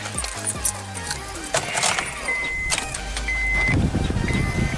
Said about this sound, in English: Why don't we get in the car and go to our next spot?